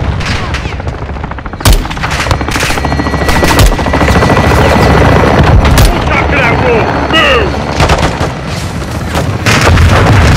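Call of Duty: Modern Warfare 2 (2022) combat as an air strike hits a building: a loud, dense roar of explosions, heavy gunfire and a helicopter, with sharp impact blasts and radio chatter mixed in.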